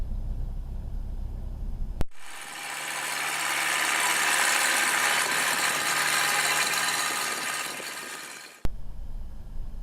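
A 100-hp Rotax 912iS fuel-injected aircraft engine on a Zenith STOL CH 750 cranks and catches, then runs at a steady loud idle, a dense mechanical roar that holds for several seconds before cutting off.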